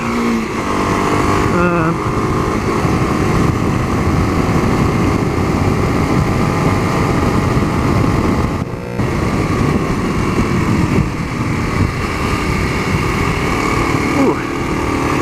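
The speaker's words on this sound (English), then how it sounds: "2009 klx250sf. And not a real powerful bike, but a lot of fun though." A 2009 Kawasaki KLX250SF dual-sport motorcycle on knobby tires being ridden, its engine a steady loud drone with wind rush throughout and a brief dip in the middle, no speech.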